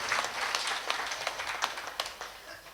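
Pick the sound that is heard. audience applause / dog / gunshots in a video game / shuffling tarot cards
audience applause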